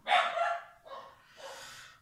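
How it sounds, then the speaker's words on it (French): Several neighbour's dogs left out in a yard bark loudly, a burst of two or three sharp barks followed by two more rounds, with no talk over them. "les chiens sont infernaux parce que la voisine laisse les siens dans la cour et ils gueulent comme des putois"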